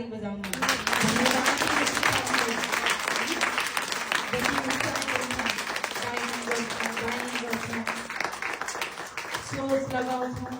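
A Christian church congregation bursts into sustained, dense applause after a short pause, the clapping filling the room for about ten seconds while voices carry on beneath it.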